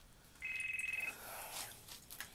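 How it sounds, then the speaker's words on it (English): A phone ringtone sounds once as a steady, pulsing electronic tone lasting under a second, moderately near, during a fish-gutting session at a lake with faint outdoor background noise. "That phone, is that me?"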